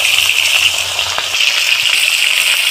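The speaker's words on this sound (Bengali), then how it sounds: "এর মধ্যে মাছের মাথাগুলো সুন্দর করে ভেজে নেব।" Bhetki fish heads fry in hot oil with a loud, dense, unbroken hiss that holds steady throughout.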